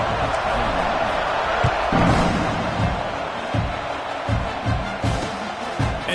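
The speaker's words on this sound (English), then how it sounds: "this crowd is buzzing after that last score" A football stadium crowd buzzes after a touchdown, a loud, steady roar of many voices with scattered thuds and bangs running through it.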